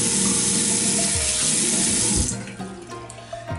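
Water gushing from a faucet into a sink as a rat tail comb is wetted, loud and close for about two seconds before the flow eases and fades into softer trickling.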